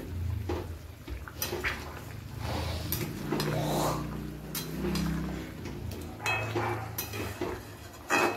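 Chicken is stirred with turmeric in a pan, giving a string of light scraping and clinking utensil sounds at close range over a soft background hiss.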